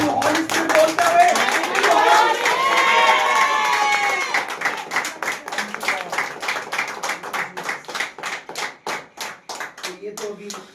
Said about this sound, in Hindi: आइए उसके रूह के लिए ताली बजाकर उसका धन्यवाद करें।